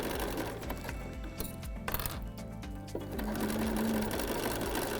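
A sewing machine stitches along the edge of a penguin play mat, its needle running in a fast, steady mechanical chatter close to the listener, with brief pauses and a higher whine in the last seconds.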